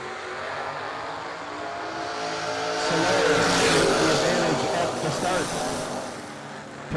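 Drag race cars, including a 1979 Camaro, roar at a track event, a broad engine rumble swelling to a loud peak in the middle then easing off, heard under a track announcer's talk.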